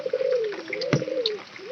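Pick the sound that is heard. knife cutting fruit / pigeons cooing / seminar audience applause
pigeons cooing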